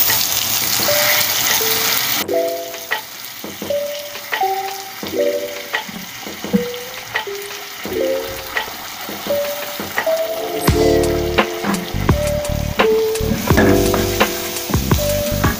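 Black chickpeas frying in a pan with a loud, continuous sizzle and crackle, punctuated by repeated spoon scrapes and clinks against the pan throughout.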